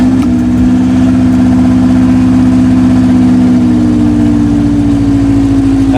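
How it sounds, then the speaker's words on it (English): A Honda Civic with a B20 engine and an open header idles loudly just after a cold start, a harsh, steady drone with a strong low hum that stays even throughout. "Let's see what an open header cold start sound like on a B20."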